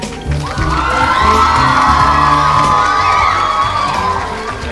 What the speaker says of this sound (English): May we applaud them?